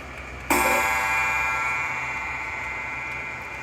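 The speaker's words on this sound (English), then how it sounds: "Oh, the gong on it is really nice too." A single resonant gong stroke from a pendulum clock rings out and sustains with a long, slowly fading shimmer, heard close and fairly loud.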